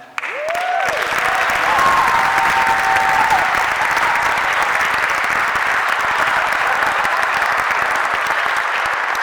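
Sustained applause from a benefit concert audience, steady and loud throughout, with a brief whoop near the start.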